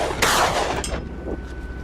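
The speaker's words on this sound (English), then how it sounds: "The first shots were fired from a considerable distance, a real challenge." A single sharp hunting rifle shot fired at wild boar from a considerable distance across rough terrain, loud with a rolling echo, followed by a fainter crack and fading reverberation.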